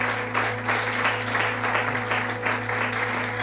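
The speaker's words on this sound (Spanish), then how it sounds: "Le podemos brindar un fuerte aplauso al Señor en esta mañana" Applause from a church congregation on a morning service fills the space with steady, dense clapping over a constant low hum, moderately loud and unbroken.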